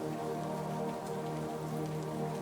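Rain patters steadily on pavement in a soft, continuous wash, evenly spread and moderately close, with a faint low hum underneath and no voices.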